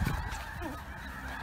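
Snow goose honking during a spring hunt, a steady series of calls from a flock over low background noise, no voices.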